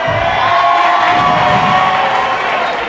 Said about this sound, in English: The Summer crowd is going to get loud. It's home court.